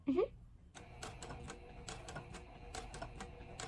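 A home sewing machine stitches fabric for a boxed pouch with quick, soft mechanical ticking and whirring bursts. A brief voice comes first, then the stitching runs quietly.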